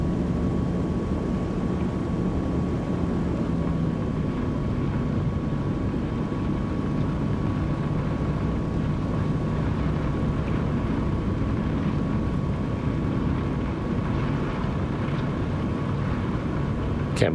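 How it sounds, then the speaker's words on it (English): Asobo Caribou aircraft engine in Microsoft Flight Simulator 2020 taxiing out to the runway, a steady, continuous broadband drone with a faint constant tone running unbroken throughout. "Let's give it some power and make our way out"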